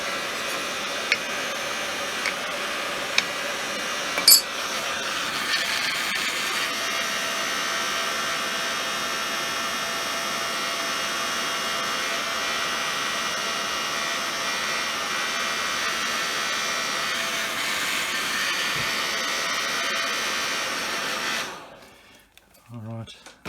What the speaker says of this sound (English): Something about this heat gun that needs fixing.